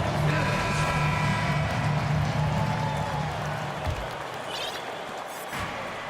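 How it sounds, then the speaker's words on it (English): Steady arena crowd applause and cheering in an NBA 2K23 basketball game, a broad continuous roar that stays loud and then eases slightly toward the end. "Please give a big round of applause for your Celtics."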